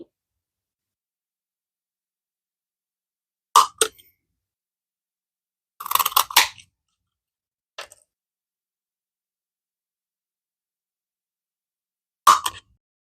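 Hand hole punch snapping out paper circles for junk journal envelopes, a few sharp isolated clicks and crunches spaced seconds apart in an otherwise silent room.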